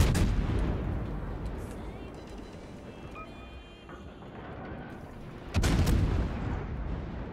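Heavy warship guns fire in a naval combat video game, a dense rumbling barrage with a fresh loud blast near the end, set under a continuous low battle roar.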